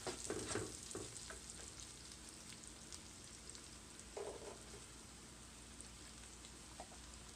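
Mushrooms and onions frying in a pan for keto cream of mushroom soup, a faint steady sizzle with occasional soft stirring scrapes, no talking.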